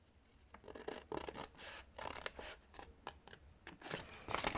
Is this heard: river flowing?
no